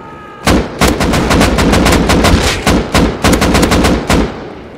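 Loud, close bursts of rapid gunfire in the survival video game Rust, shots cracking in quick irregular volleys with brief gaps between bursts.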